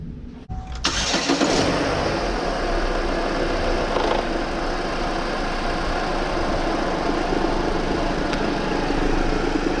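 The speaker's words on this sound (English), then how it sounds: "Now we're going to go ahead and start the vehicle and check for leaks." A Chevy Cruze engine cranks and catches after an oil change, then settles into a steady, even idle that runs on unbroken at close range.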